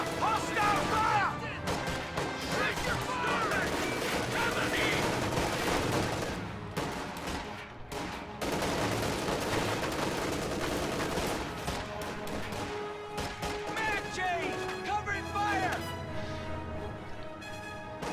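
Dense bursts of rifle and machine-gun fire with crashes and explosions from a World War II strategy video game, running almost continuously under game music and voice lines.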